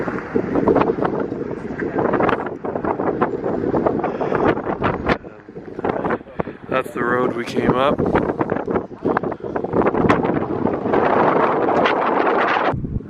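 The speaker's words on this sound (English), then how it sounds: "we're now on the edge of the Atlas Mountains, at the top of where we just drove up, and it's really windy" Strong wind buffets the microphone at a high roadside lookout on the edge of the Atlas Mountains, a loud continuous rush with gusts throughout, while a person talks over it.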